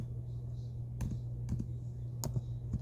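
Keys clicking on a French keyboard, a handful of short taps in a loose, uneven rhythm, close by and fairly quiet over a low steady hum.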